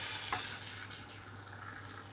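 Hot vaghar of oil and Kashmiri red chili powder poured into dal, giving a brief close crackle and hiss at the start that fades into a low, steady simmering sizzle with no voices.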